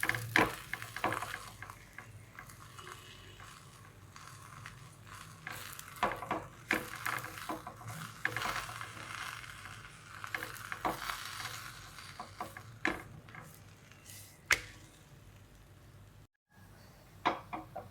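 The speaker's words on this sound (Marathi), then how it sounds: "आता तूप लावून घेते. दुसरा बी पराठा चांगला भाजून घेते." A radish paratha roasts in ghee on a hot pan, giving a soft steady sizzle broken by frequent scraping and tapping of a spatula.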